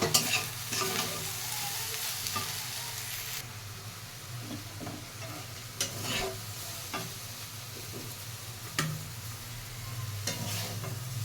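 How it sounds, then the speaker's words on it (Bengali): Potatoes and long beans fry in a pan with a steady close sizzle, broken by scraping stirs and a few sharp utensil knocks, with no talking. "দেখো আমার আলু বরবটি ভাজা হয়ে গেছে।"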